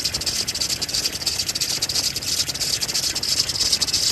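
A worn water pump on a 1993 Jeep Cherokee engine squeaks steadily, a continuous high shrill whine over a faint running-engine rumble, close and without speech.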